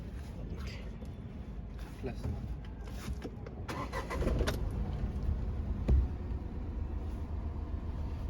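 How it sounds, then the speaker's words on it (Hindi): A Tata Tiago XZ+ hatchback is cranked and catches, then settles into a steady low idle rumble with a slight vibration, recorded close by with a person talking over it. "मैं आपको इसकी वाइब्रेशन नॉइज़ दिखाता हूँ कि इसमें वाइब्रेशन नॉइज़ कैसी आती है, आपको स्टार्ट करके दिखाता हूँ गाड़ी"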